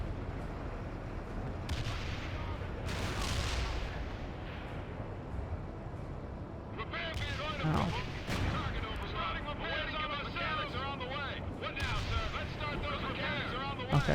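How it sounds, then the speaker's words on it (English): Gunfire striking units in the World in Conflict strategy game, a steady rumble of distant shots and impacts with sharper bursts crackling in later, while someone talks throughout. "Something's shooting me."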